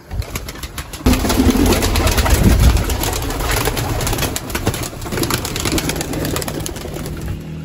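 Pigeons coo while a burst of wing flaps and rustling rises, then settles into a steady, fairly loud flutter with coos mixed in.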